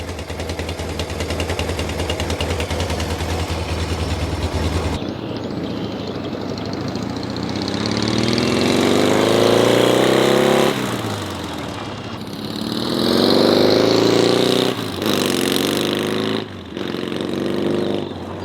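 Yamaha XS650 motorcycle engine running loud and close, a steady idle that breaks into repeated revving surges rising and falling, with no talking.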